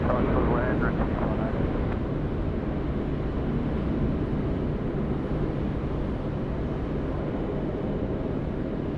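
Continuous broadband roar of an aircraft landing on runway 16 right at Sydney Airport, steady and fairly distant, with a brief rising whine early on and no clear voices.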